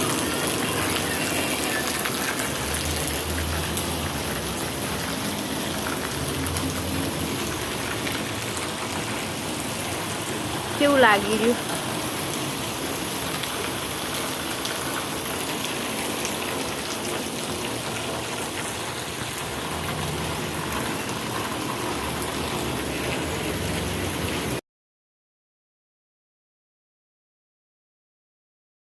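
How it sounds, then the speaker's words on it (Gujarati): Heavy rain pours steadily as a broad, continuous wash of noise, with someone briefly speaking over it near the middle. "બહુ વરસાદ આવી રહ્યો"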